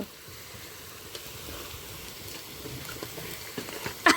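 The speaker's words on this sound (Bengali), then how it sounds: "প্রথমে কড়াইয়ে পেঁয়াজ রসুন সব গোটা মশলাগুলো দিয়ে লাল করে ভেজে নিব" Onion, garlic and whole spices fry in a wok, giving a steady, soft sizzle and crackle that runs throughout with a few slightly sharper pops near the end, with no talking.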